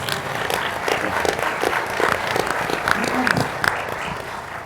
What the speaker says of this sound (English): Mike Rainey wants us to clap.